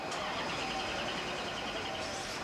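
A Chevrolet Corvette C4 engine running close by with a constant, rough mechanical drone and no pauses, on its first start at the factory.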